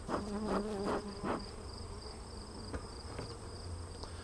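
Honeybees at an opened hive give off a faint, close buzzing hum, with a few louder pulsing drones at the start as individual bees pass near, then a softer steady background buzz.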